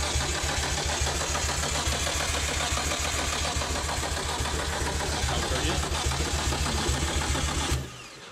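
A Nissan Skyline R32 coupe engine cranks over to prime the turbo with oil, a loud, continuous rhythmic churning that holds steady for about eight seconds before stopping.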